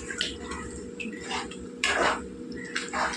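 A spoon stirs prawn and egg tamarind curry in a metal pot, giving several scraping, clinking strokes against the pot over a steady low bubbling simmer, with no talking.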